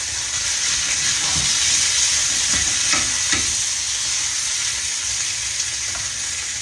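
A pork chop fries in olive oil in a pan with a close, steady sizzle, broken by a few scraping stirs as the meat is worked loose from the bottom.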